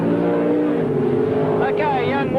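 Sprint cars racing in a heat at Parramatta City Raceway speedway, engines droning loudly as a car sweeps past with a rising, then falling, pitch under a race commentator's voice.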